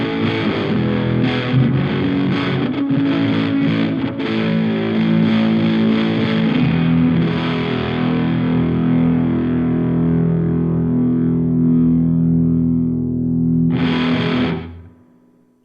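A heavily distorted electric guitar chord through a Supro Airwave amp's doubling effect, tightness maxed at 70 milliseconds, rings out thick and doubled, sustaining loudly for a long stretch before cutting off abruptly.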